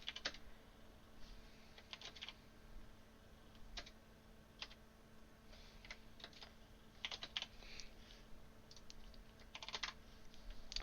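Computer keyboard being typed on steadily, clicks coming in quick uneven bursts with short pauses, close but quiet, with no talking.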